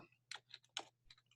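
Quick keystrokes on a computer keyboard while writing C# code: a short burst of about six soft, close clicks in an uneven rhythm, quiet, with no voice.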